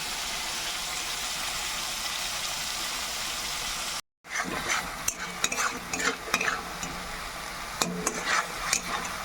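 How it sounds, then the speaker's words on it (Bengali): Green chilli spice paste fries in oil with a close, steady sizzle; after a brief break it resumes as sputtering crackles and scraping, clattering stirs of a spoon against the pan. "এই পেস্টটাকে ভালো করে আমি নেড়ে নেব, তেলে একটু ভেজে নেব"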